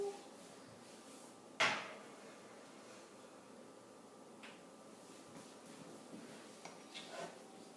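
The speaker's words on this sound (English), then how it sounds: "Now I'm going to place these into a 350-degree oven" Cake pans slid into an oven heated to 350 degrees, marked by one sharp metallic clunk of the oven door early on, then faint shuffling and soft knocks in a quiet room.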